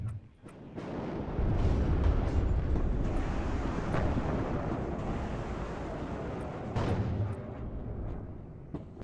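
Cluster strike explosions in the WARNO strategy game, a sustained rumbling roar of overlapping blasts with scattered sharper pops, steady and loud throughout.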